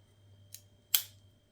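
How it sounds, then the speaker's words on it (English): Small scissors on a custom Swiss Army knife snap shut twice, a faint click then a sharper, louder metallic snip, close and alone over a low background hum. "We also have scissors."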